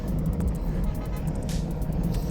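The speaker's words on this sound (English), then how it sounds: "The cars are starting to go around me and head up to the leaders" Team cars on a mountain road in a pro cycling stage race pass a rider, heard as a steady low rumble of engines and road noise with faint intermittent clicks, nearby and continuous.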